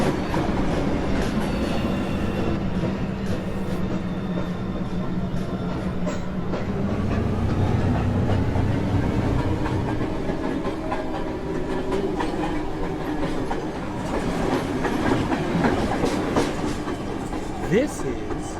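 An NYC subway 1 local train running uptown at an elevated station, with a steady loud rumble, clickety-clack of wheels over rail joints and occasional squeals as the cars pass close by.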